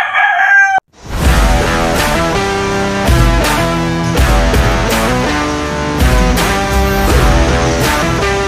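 Several roosters crow loudly and close by in repeated overlapping calls that fill the whole stretch, with no talking.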